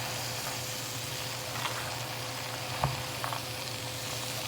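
Red beans with a ham bone in a nearly overfull pot, giving a steady low simmering hiss and bubbling, with a couple of faint soft knocks as it is stirred.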